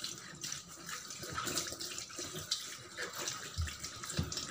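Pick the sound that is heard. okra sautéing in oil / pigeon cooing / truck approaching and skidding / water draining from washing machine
water draining from washing machine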